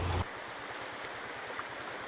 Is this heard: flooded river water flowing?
yes